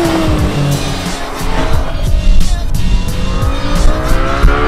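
A high-performance sports car, one of a Lexus LFA, Porsche GT3 or Ferrari 812 Superfast, pulls away loudly on fumes with engine revs rising through gears and brief tire squeal, the roar building and staying close.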